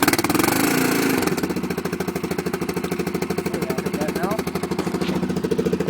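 A Honda TRX400EX ATV engine is cranked with the choke on in a cold garage and catches, then settles into a rapid, steady chugging idle with a clattering rhythm, close by and fairly loud.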